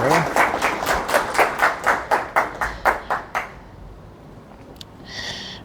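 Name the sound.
audience applause welcoming a speaker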